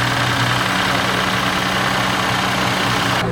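The rebuilt engine of a Porsche Panamera idles in a steady, loud, close rumble with a broad, even drone and no pauses.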